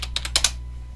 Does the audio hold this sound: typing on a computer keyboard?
yes